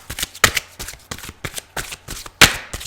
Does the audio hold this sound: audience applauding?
no